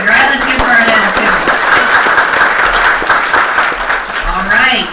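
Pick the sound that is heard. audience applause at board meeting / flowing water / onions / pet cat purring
audience applause at board meeting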